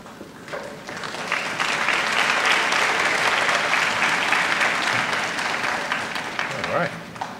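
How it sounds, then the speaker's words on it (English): Sustained applause from an audience at a 2019 Southern Nash school awards day ceremony: dense, steady clapping that swells quickly and holds at full volume for several seconds before easing slightly, with a few voices mixed into the crowd. "got a hand clap"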